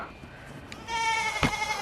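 Goats let out a loud, sustained, wavering bleat near a fenced pen with cow panels, preceded by quieter rustling and a faint earlier call.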